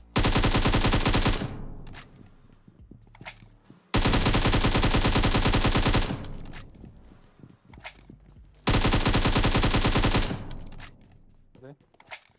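Automatic gunfire in the mobile game PUBG Mobile rattles in three long, loud bursts separated by quieter gaps holding scattered single shots and footsteps, with game sounds filling the background.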